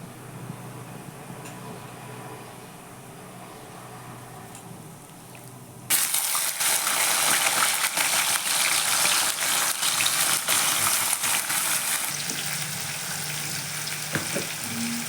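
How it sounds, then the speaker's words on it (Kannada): Raw banana pieces hit hot oil with cumin, and a quiet kitchen hum gives way to a sudden, loud, steady sizzle that holds, then eases slightly near the end. "ಹಾಕ್ಕೊಂಡ್ಮೇಲೆ ಎಣ್ಣೆಯಲ್ಲಿ ಫ್ರೈ ಮಾಡ್ಕೊತ ರುಚಿಗೆ ತಕ್ಕಷ್ಟು ಸಾಲ್ಟ್ನ ಹಾಕ್ಕೋಬೇಕು"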